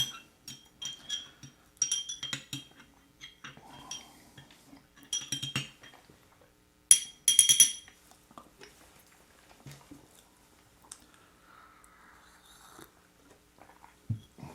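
A spoon stirs cream into a cup of Costa Rican Tarrazu coffee, giving quiet, irregular metallic clinks and scrapes against the cup, with a few louder taps between softer stretches.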